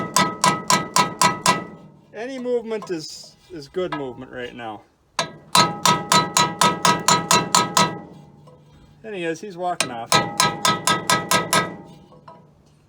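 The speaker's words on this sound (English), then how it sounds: "Might sound like I'm hammering the crap out of him" Hammer driving a chisel against the cap of a bare Minneapolis Moline SH tractor tire rim, bursts of loud, evenly spaced ringing metallic strikes separated by stretches of talk.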